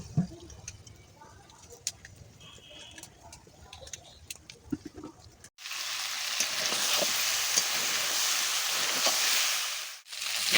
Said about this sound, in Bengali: মাছটা ভাজার জন্য কড়াইতে তেল দিচ্ছি